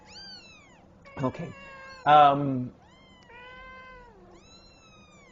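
Several kittens meow repeatedly, with high, wavering, overlapping cries, some louder and more strained than others. A person briefly says a word among them.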